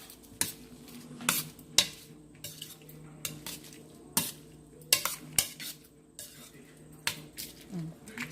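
Spoon stirring bottle gourd moong dal curry in a pan after the tempering is added: a series of sharp metallic clinks and scrapes in an uneven rhythm, close by, over a faint low sizzle and a quiet voice.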